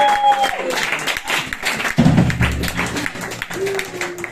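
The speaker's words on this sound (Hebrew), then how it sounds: "כפיים!" An audience applauds with steady, mid-level clapping from many hands, mixed with voices and tonal sounds throughout.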